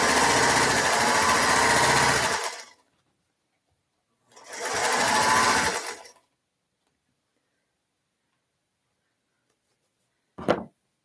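A home sewing machine stitching in two loud steady bursts of a couple of seconds each, separated by silence, followed by a brief click near the end.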